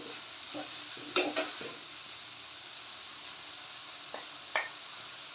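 Potatoes and fried spices being stirred together in a pan for a banana-flower (mocha) dish, giving soft scraping and faint sizzle with a few sharper spoon clinks, quiet and close, no talking.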